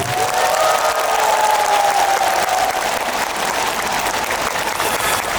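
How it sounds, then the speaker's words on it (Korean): A large outdoor crowd at a trot festival concert in Daegu applauds and cheers in a dense, loud, continuous roar, with a faint sung or shouted tone drifting above the clapping. "자, 박수 한번 보내드리겠습니다"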